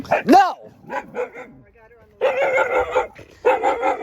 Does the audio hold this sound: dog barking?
yes